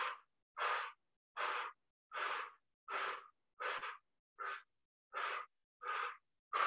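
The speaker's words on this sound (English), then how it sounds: "Keep breathing out." Forceful breaths out during a yoga exercise come as about ten sharp, evenly spaced exhalations close to the microphone, with short silent gaps between them.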